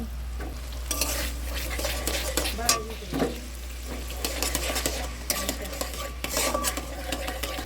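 A spice mixture is stirred in a sizzling pan while cooking a vegetarian potato, pointed gourd and paneer curry, with continuous close scraping and rubbing strokes over steady frying under a low hum.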